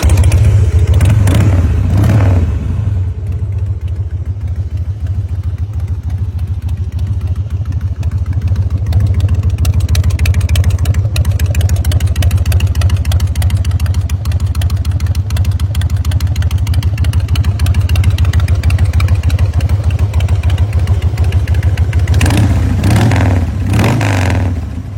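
2002 Harley-Davidson Fat Boy with a carbureted engine, heard close and loud as it revs at the start, settles into a long steady idle, then revs again near the end.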